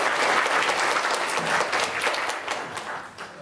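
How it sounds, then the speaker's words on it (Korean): Loud, dense applause from the audience at a policy forum on industrial technology protection, a steady wash of many hands clapping that slowly tapers toward the end. "여러분 큰 박수로"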